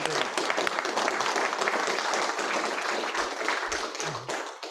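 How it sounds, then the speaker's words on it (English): Audience applause following a talk at a Commonwealth War Graves Commission event: dense, steady clapping from a crowd that holds strong for several seconds, then thins and fades out near the end. "Let's give them a nice round of applause."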